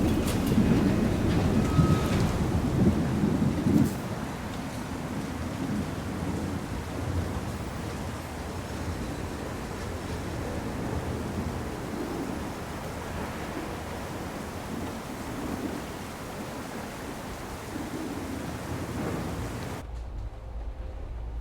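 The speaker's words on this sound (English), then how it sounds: "That storm is on its way." Approaching thunderstorm in the video game Syberia: The World Before, a broad rumbling wash of wind-like noise that starts heavier then settles into a steady roar before cutting off abruptly, with no voices.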